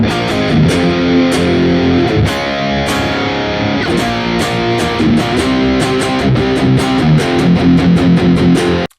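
Loud, dense distorted electric guitar in a 1980s heavy metal style, sustained chugging chords with steady rhythmic picking and regular drum hits, playing continuously throughout without any voices.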